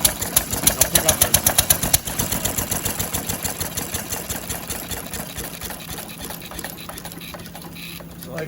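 Roughly 80-year-old oddball engine running on its first day back in operation, a fast rhythmic chugging close by that starts loud and punchy then settles and fades slightly, with faint voices under it.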